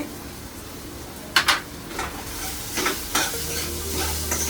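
Onion and tomato masala seasoned with turmeric, hing and salt, stirred in a hot pan for pithla-zunka: a steady sizzle under several scraping strokes of the spoon, close and moderately loud, no talk.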